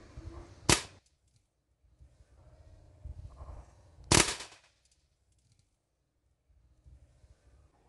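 Two sharp, loud cracks from a scoped air rifle shooting at a screw head, spaced a few seconds apart, each ending quickly amid quiet outdoor background.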